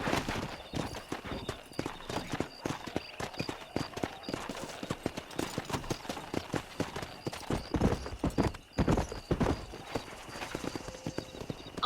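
Horses galloping in Red Dead Redemption 2, a rapid steady clatter of hooves close by with a brief whinny, running on without talk.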